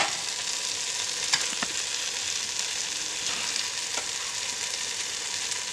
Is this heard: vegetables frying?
yes